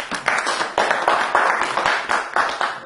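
A church congregation at a pastors' seminar bursts into welcoming applause, a dense, lively clapping that rises and falls in uneven waves and carries on throughout.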